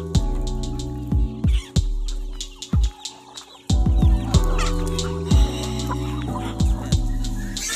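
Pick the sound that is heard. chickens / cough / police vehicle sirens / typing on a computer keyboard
chickens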